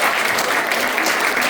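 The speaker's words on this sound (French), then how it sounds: "On peut l'applaudir." An audience at a launch event breaks into loud, dense clapping, a continuous close wash of many hands with no speech on top.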